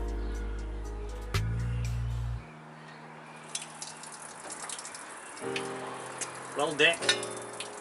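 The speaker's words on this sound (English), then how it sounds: "Definitely not catching all that, I'll tell you what. I honestly thought I drained it all." Coolant water gushes in a steady splattering stream from a Ford FE 390 V8 engine block during a water pump job, then cuts off abruptly, leaving faint dripping and handling noises while someone speaks briefly.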